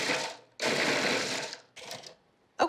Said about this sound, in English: So we're gonna pulse this all together until it forms something like a cohesive crust.